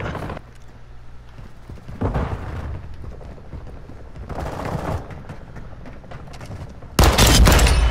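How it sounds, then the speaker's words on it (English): A friendly airstrike in a Call of Duty match lands as rumbling booms and bursts of crackling fire at intervals, ending in a loud close blast, mixed with scattered gameplay noise. "Friendly airstrike on the way."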